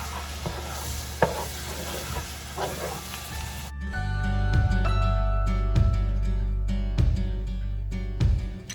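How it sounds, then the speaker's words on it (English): Ground beef and broccoli slaw stir fry with onion, herbs and paprika being stirred in a pan, a few scraping strokes followed by a steady sizzle and repeated spoon scrapes and clanks against the pan. "Stir that all in together."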